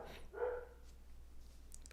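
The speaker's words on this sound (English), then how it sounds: "The dogs next door started barking." A dog next door barks once at a middle distance, a short sharp bark, followed by quieter background sounds and faint distant noises.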